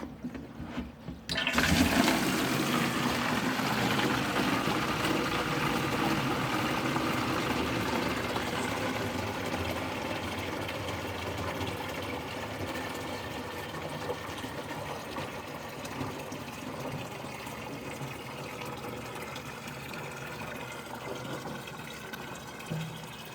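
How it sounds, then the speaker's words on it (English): A backup sump pump drains water from a tank into a drain system, a continuous rushing, gurgling flow that starts abruptly after a brief quiet moment and holds steady, close and fairly loud, with no talking. "And that's how I'll be draining my tank."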